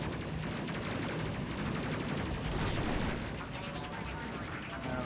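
Machine-gun fire from the rear turret in the Space Crew game forms a dense, continuous rattle of rapid bursts layered with other game sounds, with no break across the whole stretch.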